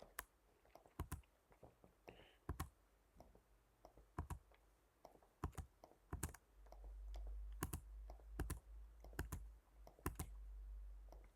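Computer keyboard keys tapped one at a time in a quiet room, sharp separate clicks with irregular gaps between them and a low hum underneath.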